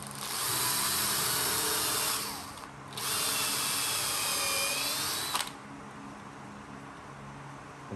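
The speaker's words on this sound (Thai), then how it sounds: "ก็ใช้สว่านเจาะเข้าไป" Electric drill bores into wood to reinforce a weak spot along the grain, a loud steady whine running in two long bursts with a brief pause between, then stopping.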